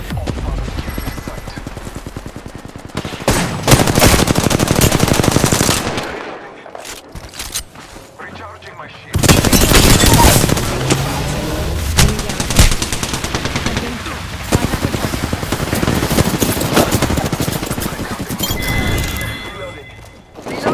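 Sustained automatic gunfire in the battle royale shooter Apex Legends, loud rapid bursts with short gaps between them, mixed with game effects and a player's voice talking over the shooting.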